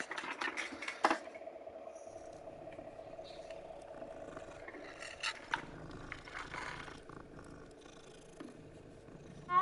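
A cat in Hogwarts Legacy purrs in a steady, rumbling drone throughout, close and moderately loud, broken by a few sharper clicks and rustles from the game.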